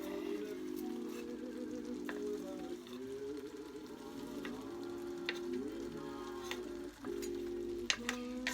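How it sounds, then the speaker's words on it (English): Noodles fry in a pan with a steady, close sizzle that runs unbroken throughout, with a wavering tonal hum underneath and a few small clicks near the end. "I'm gonna let it sit and cook for a little while longer"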